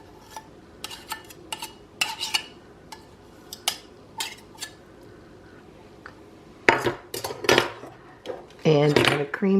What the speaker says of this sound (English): And you're going to cream these together, and I'm using a pastry blender to do that.